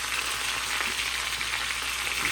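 Sliced onions sizzling in a hot pan as a side for lamb chops, a steady close frying hiss with faint stirring scrapes and no speech throughout.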